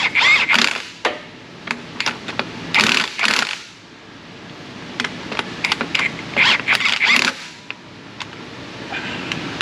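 Ridgid impact gun tightening a threaded bolt during a Dodge Ram repair: several loud bursts of rapid mechanical hammering, clustered near the start and again later, separated by quieter ratchety clicks and scrapes, with no talk.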